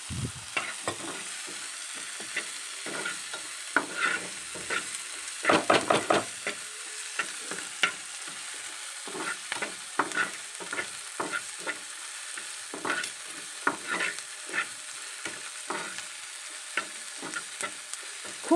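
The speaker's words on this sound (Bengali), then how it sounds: "খুব বেশি ভাজবো না পেঁয়াজটা," Chopped onions fry lightly in a pan for a vegetable soup, with a soft steady sizzle and repeated scraping, tapping strokes of a spatula stirring them, close and moderately loud, with no talking.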